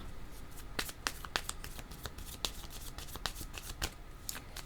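A deck of black tarot cards being shuffled by hand: a run of crisp riffling bursts and flicks spaced irregularly over a few seconds, close and fairly quiet, with no speech.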